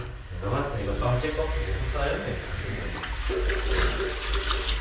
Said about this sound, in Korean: 지금 보면 물이 이렇게 쫙 나가잖아요, 지금.